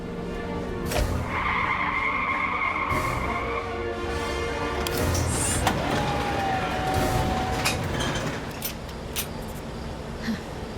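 A car's tires squeal as it skids hard to a stop, a loud, sustained screech over rumbling engine noise and a steady roar, with sharp knocks and bangs breaking in.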